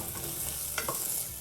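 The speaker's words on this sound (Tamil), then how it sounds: "இதையும் வந்து ஒரு நிமிஷம் வதக்கினா போதும்." Mint leaves sautéing in a pot while making broccoli rice, a soft steady sizzle with a couple of brief stirring scrapes near the middle, close and fairly quiet, no talking.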